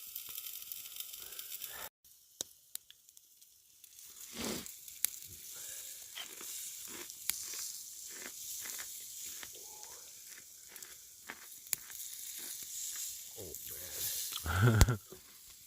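Metzger pork chops crackle in a bush oven over a campfire, a faint, uneven sizzle with scattered pops and ticks, partly under casual outdoor talk.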